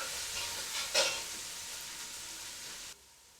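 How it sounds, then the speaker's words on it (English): Finely chopped red onion with garlic ginger paste frying in a pan, a steady close sizzle with a brief stirring scrape, then cutting off abruptly near the end. "Mix the ingredients well and cook until the onions brown."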